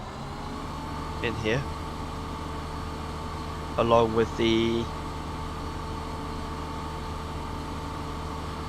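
A combine harvester's engine idles steadily while being parked, a constant low mechanical hum with a tonal drone, as someone speaks briefly over it twice.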